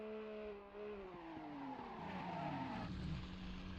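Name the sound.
race car sliding sideways across the finish line in sim racing game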